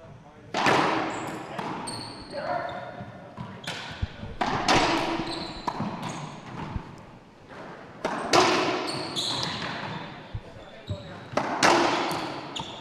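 A racquetball smacking walls and floor during a senior world championship match, with sharp, echoing bounces recurring every second or two in a reverberant court, spectators' voices in the background.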